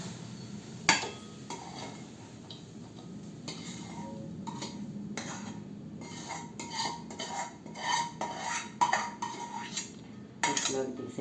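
Cooked banana flower dal is scraped from a pan into a serving dish, with metal spoon clinks and scrapes against cookware coming in scattered bursts, close but fairly quiet.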